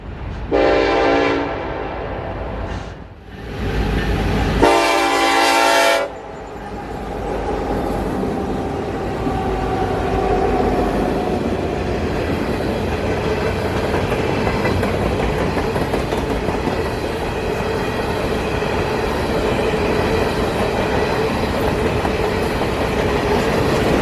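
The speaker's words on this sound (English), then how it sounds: "would come the NS northbound, with more foreign power being two BNSF SD-70 Aces sandwiching an NS-9" A northbound Norfolk Southern manifest freight led by two BNSF SD70ACe locomotives with an NS unit between them passes in Dalton, Georgia, opening with loud horn blasts, then a long steady roar of rolling cars and wheel noise close by.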